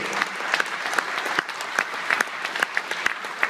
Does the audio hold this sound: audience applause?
yes